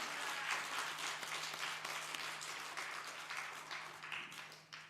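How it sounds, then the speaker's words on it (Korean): A church congregation applauds its choir after a hymn, steady broadband clapping that holds evenly for the whole stretch at a moderate, slightly distant level, with no voices over it. "오늘 성가대가 이럴 땐 박수 치는 거야"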